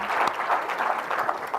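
Round of applause from a conference audience for the panelists at a logistics summit, a steady dense patter of many hands at moderate distance with no voices over it.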